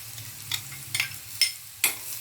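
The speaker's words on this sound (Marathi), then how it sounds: "बारीक गॅसवर खोबरं चांगलं परतून घेऊया, पूर्ण ब्राऊन करून घेऊया खोबरं पण" Chopped onion and grated coconut frying gently in a pan over a low flame, a soft steady sizzle broken by four sharp scrapes and stirs spaced about half a second apart.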